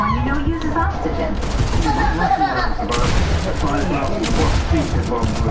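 Shotgun blasts boom out in a video game match, a dense run of loud gunfire bursts over continuous game noise with a voice talking throughout.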